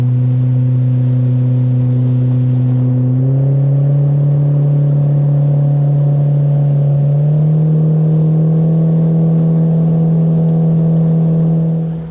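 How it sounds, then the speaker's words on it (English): A 35-horsepower Mercury jet-prop outboard motor hums steadily and loudly at close range, its pitch stepping up twice as the revs rise, with no talking. "just wanted to show you the boat and the motor"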